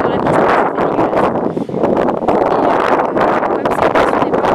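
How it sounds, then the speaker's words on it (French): Strong wind gusting outdoors at a horse stable, buffeting the microphone with a loud, continuous rough rumble and hiss that barely dips throughout. "vu qu'il y a beaucoup de vent"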